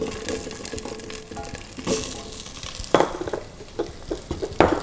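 Onions sizzling and frying in a pot for beef stew, a steady hiss with occasional stirring scrapes and clinks, close and fairly loud, no voices.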